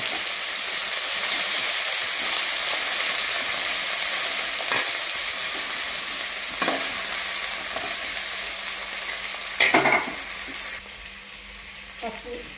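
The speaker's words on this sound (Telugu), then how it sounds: "ఉల్లిపాయ వేసి కరివేపాకు వేసుకొని కరివేపాకు కొంచెం వేడిన తర్వాత ఇది టమాటా ముక్కలు వేసుకోవాలి." Tomato pieces with onion and curry leaves frying in a pan, a loud steady sizzle with a few brief stirring scrapes, fading lower near the end.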